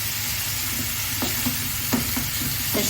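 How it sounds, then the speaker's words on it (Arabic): Onions sautéing with potatoes and carrots in spices and chicken stock, a steady close sizzle with a few soft stirring clinks of a utensil against the pan, no talk. "تشويحه للبصل"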